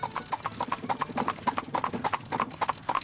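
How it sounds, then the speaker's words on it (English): A hired horse and carriage set off from a train station, its hooves clip-clopping in a steady, brisk rhythm that stays close and clear throughout, with no voices over it. "hired a horse and carriage"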